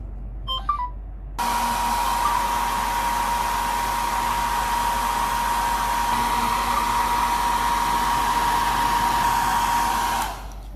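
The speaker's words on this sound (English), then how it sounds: "if we just turn on the hairdryer" A hair dryer blows steadily at close range with a constant whirring hum, switching on after a brief pause and cutting off near the end.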